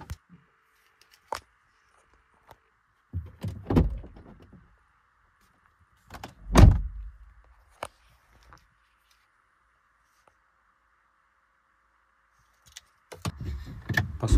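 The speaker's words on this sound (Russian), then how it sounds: "можно будет отпирать брелком автомобиль" A few sharp mechanical clunks and clicks of a Volvo being unlocked with a key fob and a door opening, spaced apart in an otherwise quiet space, with a faint electronic hum.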